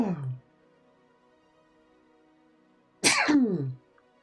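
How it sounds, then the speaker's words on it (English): One loud, close sneeze sharply breaks a near-silent room, following a shorter vocal burst at the start. "I'm going to sneeze."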